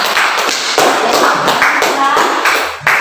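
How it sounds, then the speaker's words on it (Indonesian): Students in a class applaud: steady, dense hand clapping for about three seconds, loud and close, with a few voices mixed in. "Oke, berikan aplaus"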